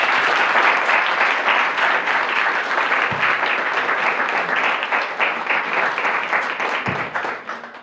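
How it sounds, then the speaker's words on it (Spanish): An audience at a literary talk applauds steadily and loudly to welcome a speaker, sustained dense clapping that slowly tapers off. "Recibimos al maestro José Luis con un fuerte aplauso."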